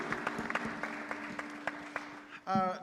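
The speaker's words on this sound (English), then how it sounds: "Let's give our moderator, an MC, a big round of applause." Scattered handclaps from a conference audience at a post-election gathering greet the moderator, coming in uneven single claps rather than a full ovation, before a voice begins speaking near the end.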